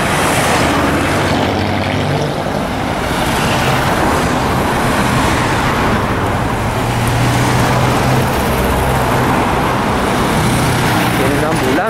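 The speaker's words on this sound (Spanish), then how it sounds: "Viene un auto cargado de plátanos." A car loaded with bananas drives past in busy street traffic near a roundabout overpass, its engine and tyre roar blending into a continuous, loud wash of passing vehicles.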